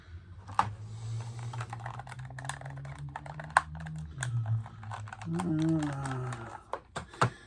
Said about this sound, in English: Internal keyboard.